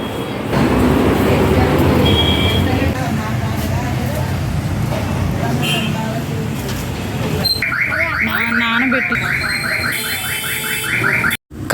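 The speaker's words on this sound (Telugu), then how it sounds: "మన కారు ఎందుకు వెనక్కి వెళ్తుంటే అలా సౌండ్ వస్తుంది" A car's reversing warning beeps in a rapid, regular electronic pattern, preceded by loud engine and road noise with voices talking.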